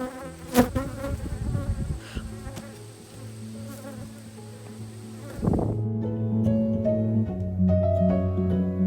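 Honey bees buzzing around an open hive during a honey harvest, a steady close drone with shifting pitch as insects pass near, plus a few soft handling knocks.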